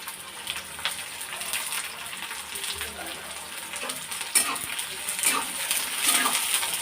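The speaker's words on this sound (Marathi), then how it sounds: "तेल गरम झालं की आपण कांदा हा फ्राय करून घ्यायचा" Onions fry in hot oil in a kadhai for a dhaba-style paneer masala, a steady close-up sizzle broken by spoon stirring and sharp metallic clinks against the pan.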